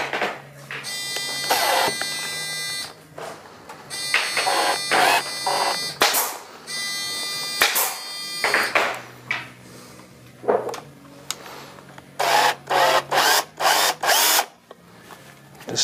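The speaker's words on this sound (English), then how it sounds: "We're going to put some little about 12mm 6 gauge screws into this hanger." A power drill drives small 12mm 6 gauge screws into a hanger on a shadowbox frame, with repeated short whirring bursts of varying pitch separated by pauses and handling clicks, loud and close.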